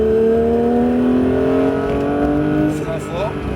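A Porsche 911 GT3 engine drones steadily at high revs on a race circuit, pitch rising as it accelerates, then briefly dipping and climbing again near the end, loud and close.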